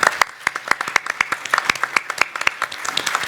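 An audience at a panel discussion applauds with quick, dense clapping that holds steady for a few seconds.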